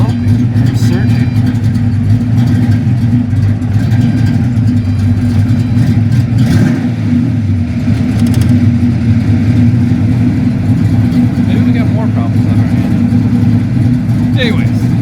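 Cummins diesel engine in a van idling rough and steady, a loud continuous low drone throughout with slight unevenness, no talk over it.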